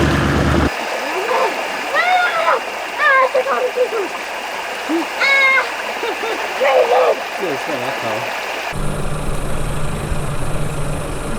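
A small creek in the Victorian High Country runs with a steady, close rush of water that carries under talking voices throughout, and the flow sound shifts in tone near the end.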